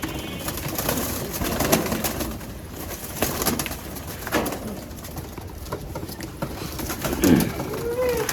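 Domestic pigeons on a city rooftop coo repeatedly, soft and close, amid steady background noise and a few faint wing flutters. Someone talks intermittently over the birds.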